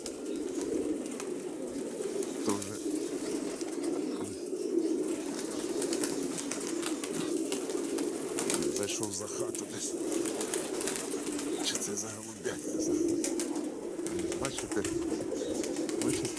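Pigeons cooing and wings flapping during a flight over a rural yard, a soft continuous bird murmur with scattered flutters, while someone talks over the sound the whole time.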